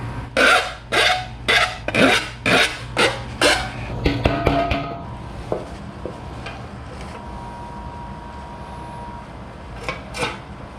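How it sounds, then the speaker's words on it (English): A metal hand file rasps along the cut edge of a chopped Harley Iron 883 fender in about eight steady, loud strokes, then a few lighter scrapes and metallic clinks before the sound trails off into near quiet. "I'm gonna take a file, smooth out the edges here so they're not as sharp"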